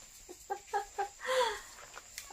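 A hen clucks in a few short, faint, rhythmic calls followed by a slightly longer cluck, heard at night without talk.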